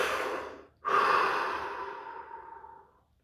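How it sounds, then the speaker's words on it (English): A single slow, deep breath drawn in and released as a long, audible exhale during a guided relaxation body scan, close and soft, with no talking. "Take a deep breath."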